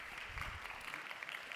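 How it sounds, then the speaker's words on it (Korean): Church congregation at a Sunday youth service clapping in blessing as people step down from the platform, a soft, steady patter of applause that stays faint and distant throughout. "하단하실 때 축복의 박수로 함께 하겠습니다."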